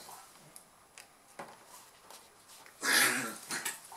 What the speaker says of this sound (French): Mes chiens se battent, pardon.